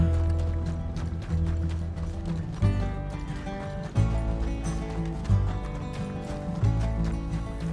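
Horse hooves in the Red Dead Redemption II video game, a rhythmic clip-clop of galloping over a steady layer of music, with the pace holding even throughout.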